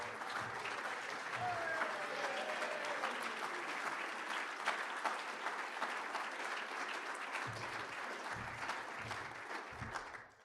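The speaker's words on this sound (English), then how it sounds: "Give him a round of applause." A convention audience in Lincoln applauds a speaker being introduced, sustained clapping that holds steady and fairly distant for about ten seconds, with faint voices underneath and a few low thumps near the end.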